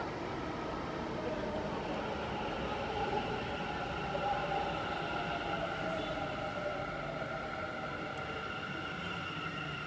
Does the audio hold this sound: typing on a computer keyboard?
no